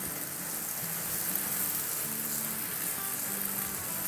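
Pepper steak sizzles loudly in a hot pan as it is flipped, a steady dense crackle of frying fat that continues without pause.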